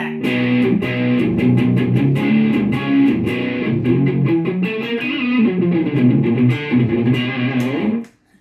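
A distorted electric guitar played through a distortion pedal plays a gritty, sustained riff of chords and notes, loud and continuous, ending abruptly.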